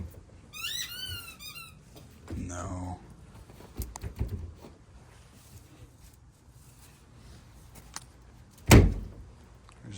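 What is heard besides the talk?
stuck chicken coop door being opened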